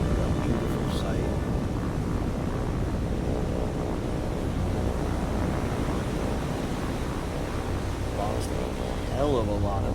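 Aircraft drone overhead in a naval combat video game, a dense, continuous low roar of many planes, with a few higher whines and brief sweeping engine tones near the end.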